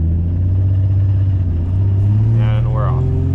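A manual car pulling away as gas is applied, its engine giving a loud, steady low rumble that builds slightly, heard from inside the cabin with a voice talking over it.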